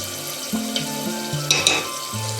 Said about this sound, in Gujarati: લસણ વાળો મસાલો છે એ નાખવાનો છે પણ વઘારવા।